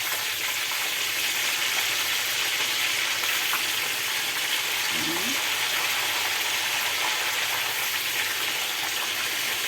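Tempeh and tofu frying in reused cooking oil, a dense continuous sizzle and crackle heard alone at moderate distance, steady throughout.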